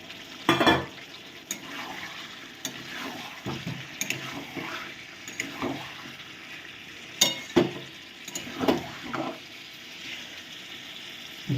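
Fried potatoes are added to chicken kosha and stir-fried in the pan, giving a soft continuous sizzle broken by sharp spoon knocks and scraping strokes at irregular intervals.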